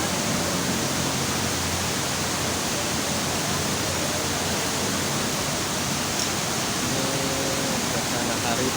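Bantimurung waterfall roars with a steady, loud, unbroken rush of falling water that fills the whole stretch evenly, with no voices rising above it.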